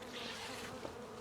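A honey bee buzzes close by near a beehive outdoors, a brief steady drone against a soft background hiss.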